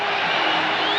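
A stadium crowd cheers at a cricket match in Barbados, a loud, dense roar of many voices heard in one brief burst.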